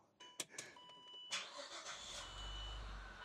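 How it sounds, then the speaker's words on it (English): A Saab 9-3 V6 engine cranks with a few clicks, catches and settles into a steady low idle with no misfire, recorded up close with no talking. "All right, car is running. No misfire."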